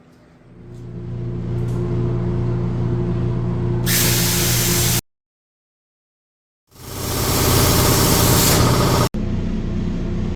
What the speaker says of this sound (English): I'll start that cut right now.